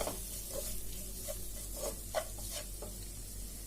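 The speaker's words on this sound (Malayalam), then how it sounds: "1/2 ടീസ്പൂൺ പെരിഞ്ജീരകത്തിന്റെ പൊടി, 1/2 ടീസ്പൂൺ കുരുമുളക് പൊടി. ഇതിട്ടിട്ട് നന്നായിട്ടൊന്ന് വഴറ്റാം." Fennel and black pepper powder sautéed in a pan for Kerala-style pearl spot fish, a soft continuous sizzle with faint rhythmic stirring scrapes, quiet and close.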